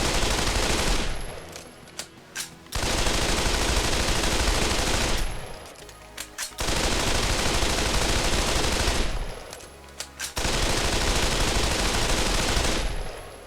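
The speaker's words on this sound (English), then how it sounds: "I can just start shooting again." Automatic gunfire from the Pavlov VR shooter game rattles out in long loud bursts, with short gaps between them for reloading.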